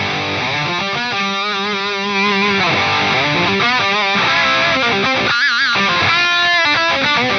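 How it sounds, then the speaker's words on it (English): Electric guitar through an Atomic Amplifire 6 modeler with a graphic EQ mid-range solo boost, playing a loud, sustained, distorted lead line with bends and vibrato and no talking. "This should give me a nice mid-range focus solo boost."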